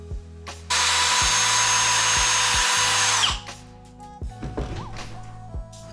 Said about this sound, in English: To drill some pilot holes before you nail it.